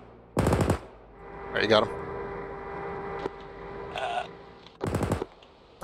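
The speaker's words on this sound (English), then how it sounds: "Just shoot him with a machine gun. Coax." In a video game, a tank's coaxial machine gun fires two short, sharp bursts a few seconds apart, with voices talking in between.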